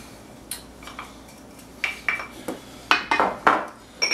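Store-bought minced garlic, about two tablespoons, is dropped into a bowl while making cabbage pico de gallo, giving a run of light clinks and taps of a utensil against the dish, sparse at first and then quicker and louder.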